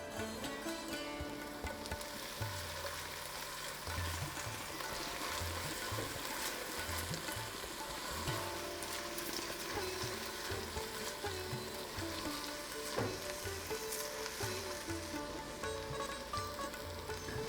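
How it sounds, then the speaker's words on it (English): Onions frying in ghee give a steady, dense sizzle and crackle, continuous and fairly close, with occasional stirring, under a faint background hum and without talk. "Onions frying in ghee is one of the best smells."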